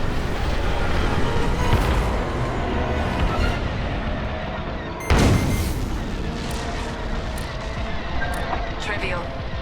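Starfighter laser and blaster fire in the Star Wars Squadrons space combat game, with a sharp blast near the middle over a constant roaring engine hum while a voice speaks.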